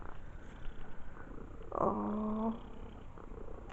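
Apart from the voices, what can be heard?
cat purring loudly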